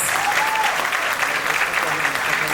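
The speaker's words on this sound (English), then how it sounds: "So once more a loud round of applause for all my tiny tots." Loud, sustained applause from an audience cheering young children at a kindergarten annual day celebration, a dense wash of clapping filling the whole moment without a break.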